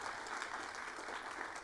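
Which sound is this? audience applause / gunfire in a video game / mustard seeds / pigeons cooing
audience applause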